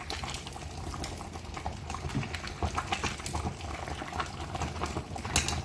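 A Kottayam-style fish head curry boils in a pot, giving a steady close bubbling with frequent small pops and gurgles, no voices over it.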